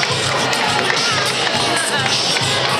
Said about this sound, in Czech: Gratulujeme a potlesk pro vítěze.